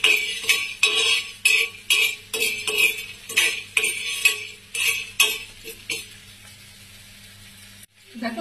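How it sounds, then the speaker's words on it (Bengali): Raw chickpeas are fried in a pan with a spatula or spoon, giving repeated quick metallic scrapes and clatters in bursts over a faint sizzle, close and clear, then the clatter stops and only a quiet hum remains. "দেখো এখানে আছে কাঁচা ছোলা, কচু শাকে দেবো বলে এটা একটু ভেজে নিচ্ছি।"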